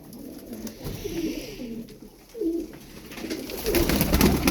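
Pigeons coo repeatedly in a loft of Turkish tumbler pigeons, soft rolling calls overlapping at close range, with a brief lull before the cooing grows louder and busier near the end.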